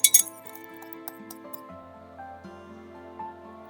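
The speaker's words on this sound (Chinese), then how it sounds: "先将这些食材搅拌均匀" Salad ingredients mixed with 120 g of water and baking powder are stirred in a bowl for Penang Indian rojak, opening with a few sharp clinks of a utensil against the bowl, then settling into a quiet, steady scraping swirl.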